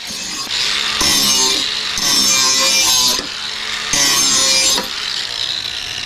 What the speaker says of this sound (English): sharpen the blades while we're here